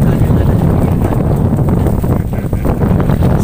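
Strong wind buffets the microphone on a small fishing boat at sea in rough weather with waves and rain, a loud, continuous roaring rush that stays steady throughout.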